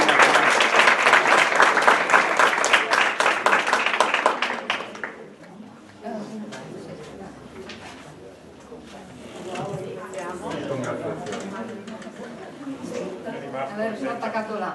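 A seated audience applauds at a ceremony handing out certificates for Friulian language and culture courses, a loud burst of clapping lasting about five seconds before fading out, after which people talk.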